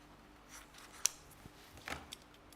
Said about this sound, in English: Grab the scissors.